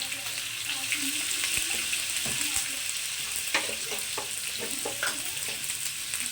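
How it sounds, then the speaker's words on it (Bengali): Pumpkin pieces frying in hot oil with turmeric in a pan, a steady loud sizzle running throughout with scattered crackles and a few clinks of stirring. "কুমড়োগুলোকে আমি একটু ভেজে নেব"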